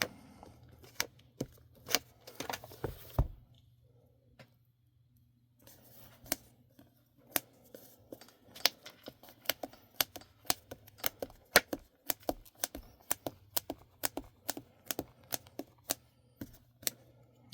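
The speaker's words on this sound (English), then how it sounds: "if you're wondering why I'm dabbing all of it instead of like rubbing across it" A drawing tool dabbed repeatedly onto paper, close sharp taps in irregular quick runs with a brief pause near the start, no speech.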